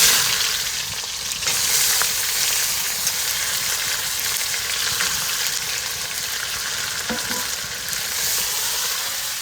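Onions frying in a pan on a wood-fired clay stove, a loud dense sizzle that holds steady throughout with occasional stirring scrapes, close by and without speech.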